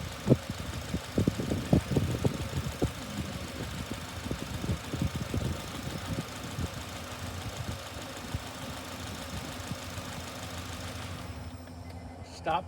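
A Honda Accord engine running, heard as a steady mid-pitched hum with knocking, rattly pulses early on, close and continuous, tapering toward the end.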